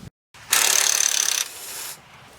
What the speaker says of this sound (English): what I'm doing now is removing the coil spring strut assembly so that I can completely dismantle it